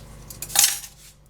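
A utensil scraping and clinking against a mixing bowl as pumpkin spice cranberry bread ingredients are stirred together, a brief cluster of bright, close clinks with no talking.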